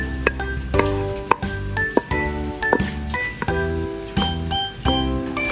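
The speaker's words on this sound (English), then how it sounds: "Just a quick stir-fry, and your delicious winged beans are ready to be served and enjoyed." Winged beans stir-fried in sambal chili sauce in a wok, with steady sizzling broken by rhythmic metallic scrapes and clinks of a spatula against the pan, loud and close.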